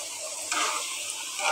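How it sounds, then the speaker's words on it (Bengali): Lentils hit hot oil in a pan and sizzle loudly in a continuous hiss that swells as more are added, with no voices. "তো আমি এখানে ডালগুলা ঢেলে দিচ্ছি। ডালগুলা একটু কষাইয়ে তারপর আমি ঝোলটা দেব।"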